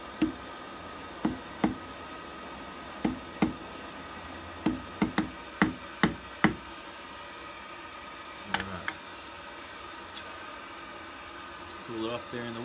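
Blacksmith hammering hot metal to taper a hair barrette: a dozen sharp, ringing hammer blows on the anvil come in uneven clusters, loud and close, over a low shop hum, with a few softer taps trailing off.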